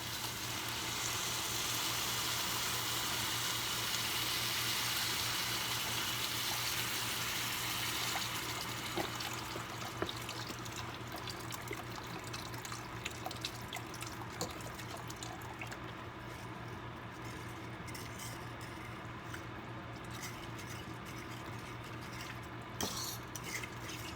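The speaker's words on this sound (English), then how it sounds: "So I'm gonna go ahead and add in my broth." Vegetable broth pours steadily into a pot for several seconds, a continuous splashing trickle that fades into quieter clinks and stirring with a low hum beneath.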